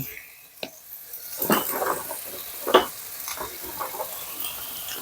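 Squid stir-fried with herbs in a pan gives intermittent sizzling bursts and scraping stirs, with quiet background noise between them.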